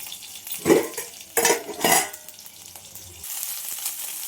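Curry leaves frying and being stirred in a pan, with loud scraping and clattering strokes of a utensil over a steady sizzle, close up and with no talking.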